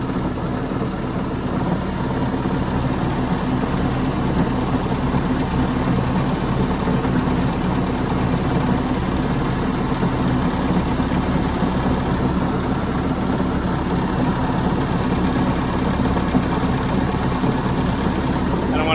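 A 2008 Bayliner 185 boat engine idles slightly fast, steadily and evenly, a low continuous rumble that stays the same throughout.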